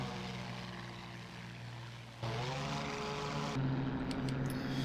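Propeller engine of a P-40 fighter plane in the flight game IL-2 Sturmovik 1946, flying over the Mediterranean near North Africa. The drone is steady and loud, and its pitch shifts abruptly twice as the engine note changes, with no voices.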